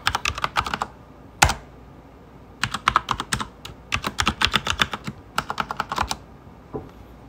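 Typing on a computer keyboard at a Kali Linux login prompt: bursts of quick, sharp key clicks with short pauses between them, close and clear, with no talking.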